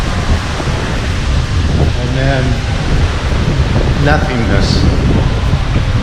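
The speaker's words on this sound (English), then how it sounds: "Just a big echoey wind tunnel." Hollow wind rushing through the enclosed solid-metal bow of the Norwegian Gem cruise ship, a steady broadband roar echoing around the space, with a person talking over it.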